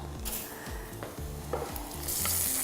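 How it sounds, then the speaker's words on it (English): Vegetables hit a hot pan with a sharp burst of sizzling that keeps crackling steadily, close by, with no voices. "you will hear them sizzle when they pop into the pot"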